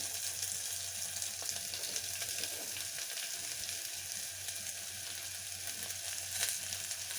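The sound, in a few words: onions frying in a pan with garlic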